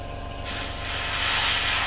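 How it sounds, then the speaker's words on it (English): Airbrush paint spraying onto a Tamiya 1/48 F-16 model aircraft, a steady close hiss that starts partway in and grows a little louder, alone with no talk. "Okay, so I'm going to spray downwards, which is obviously that way, away from the body of the aircraft."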